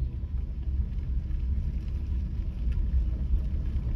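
A car engine rumbles low and steady during a driving lesson, a continuous close drone with no talk over it.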